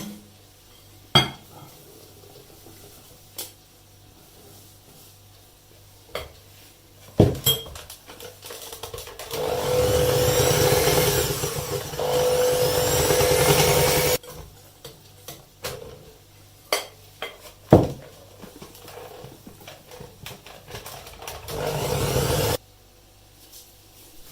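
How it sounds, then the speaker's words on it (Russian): Scraping and clinking of a spoon against a bowl of kefir batter, with a sustained stretch of steady mixing in the middle and sparse taps before and after. "Все еще раз хорошо перемешаем."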